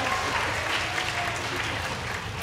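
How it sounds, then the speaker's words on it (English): Audience applause at a local singing competition rolls on steadily, a crowd of many hands clapping in a dense, continuous roar with faint crowd murmur underneath. "let's give a round of applause for Zach Jaji."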